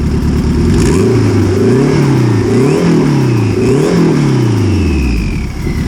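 A Honda CRX engine revs hard again and again, its pitch rising and falling in repeated surges over a steady loud idle, close up with no talking.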